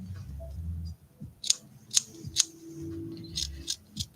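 Scissors snip through material while cutting out a doll part, with four or five crisp, separate cuts spaced about half a second apart over a low background rumble.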